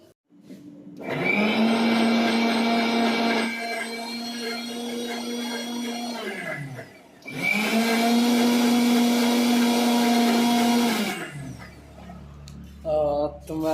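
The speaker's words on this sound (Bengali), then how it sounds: "পহলে আমটা পিসবো।" A mixer grinder blends mango pieces in two loud, close bursts of whirring motor roar, each several seconds long, separated by a brief pause as the motor winds down and restarts.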